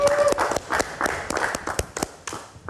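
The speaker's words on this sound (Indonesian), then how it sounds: "Kita kasih tepuk tangan." A live studio audience at a talk show applauds as a singer is welcomed, loose scattered claps rising and falling in irregular bursts, fairly near and moderately loud.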